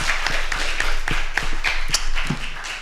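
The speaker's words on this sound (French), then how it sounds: "Merci beaucoup, on peut les applaudir." Audience applause at the close of a photography and digital-issues festival talk, a dense, steady patter of many hands clapping throughout, fairly loud and close, with no speech over it.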